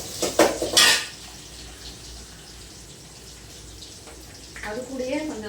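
Onions are tipped into a cooking pan, with a quick clatter of utensil on metal in the first second. A soft, steady sizzle follows, and a voice starts speaking near the end.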